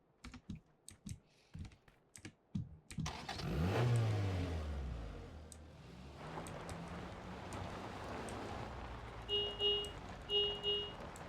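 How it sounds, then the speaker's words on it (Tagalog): Keyboard clicks tap at first, then a video game car engine roars up loudly, revs and sweeps in pitch before settling into a sustained drive, with more key presses and beeps later. "Kotse."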